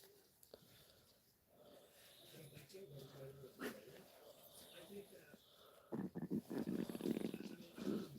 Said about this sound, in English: There goes my belly growling.